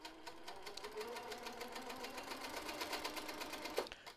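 A domestic sewing machine stitches during free motion quilting, running as a fast, steady mechanical whir with rapid needle ticks, close and continuous, ending with a brief clack.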